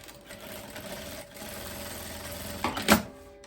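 A sewing machine stitching the side seam of a faux leather midi skirt, a steady mechanical whir that runs close by, then a short louder burst near the end before stopping.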